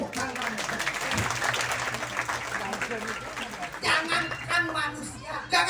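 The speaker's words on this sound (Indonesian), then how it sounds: "Tepuk tangan." Audience clapping and chatter at a traditional Balinese Drama Gong stage performance during the 2022 arts festival, a steady crowd sound running under an actor's voice with laughter mixed in.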